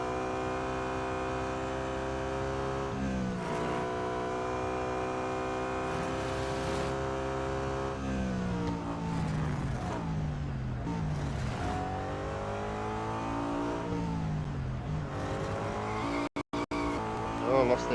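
A BMW M3 GTR race car in Real Racing 3 roars through its gears, the engine pitch climbing and dropping with each shift while tyres squeal through corners, with someone commentating over the top.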